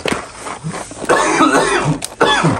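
A person coughs several times in short, harsh bursts with throat clearing in between, loud and close.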